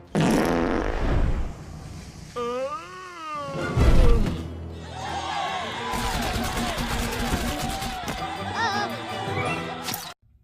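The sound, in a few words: fart gun blast from Despicable Me 2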